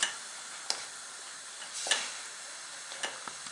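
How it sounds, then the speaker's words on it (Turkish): Hazelnuts and walnuts dry-roast in a pan, giving a faint, steady crackling hiss broken by a few sharp ticks and light scrapes. No one speaks. "Burada da fındığımız ve cevizimiz kavruluyor"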